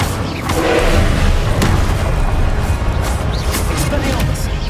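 An Incendio fire spell is cast in Hogwarts Legacy on PS5, a loud, dense roaring whoosh of flame with a booming low rumble that sustains throughout.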